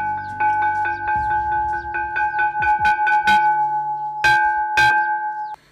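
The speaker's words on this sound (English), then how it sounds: "there is another, the second bell, and it's time to clean the campus" A school bell rings out loud and alone on a monastery campus, striking a steady run of bright, ringing tones that speed up and then slow to a few final strokes.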